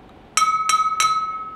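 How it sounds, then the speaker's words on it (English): Water-filled drinking glass tapped as a homemade water xylophone, three clear ringing clinks at an even pace, each pure bright tone lingering and fading, close and alone. "Now, can you play a song with your water xylophone?"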